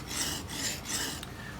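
Chisel being sharpened on a sharpening stone, three or four rhythmic rasping strokes back and forth, close and dry, with no talking.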